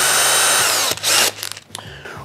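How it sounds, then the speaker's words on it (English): A power drill fitted with a small pilot bit bores into a wood block: a loud, high whine that runs for nearly a second, then a second short burst before it cuts off, close by. "Just gonna put the drill bit in the drill here"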